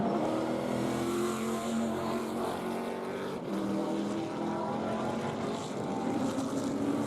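Onboard engine roar of a TRB Motorsports Ford Mustang TA2 race car at Portland, a loud continuous drone with harmonic whine shifting through gears and a brief dip mid-run, no talk over it.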